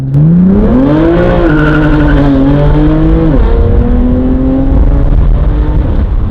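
BMW M3 fitted with a new, very loud exhaust accelerating hard, heard up close as a blaring engine roar that climbs through the revs, dips briefly at gear shifts, then keeps pulling steadily.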